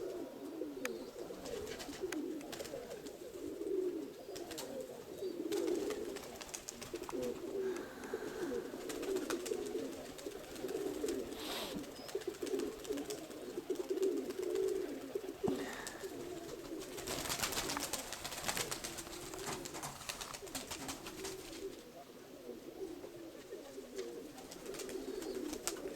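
Domestic pigeons cooing steadily at close range in a Konotop-area loft, a continuous layered murmur of low throaty coos from several birds with no talk over them.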